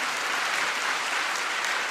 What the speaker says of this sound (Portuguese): cadê as palmas para essa mulher